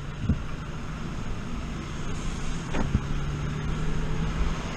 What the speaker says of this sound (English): bear with me on the wind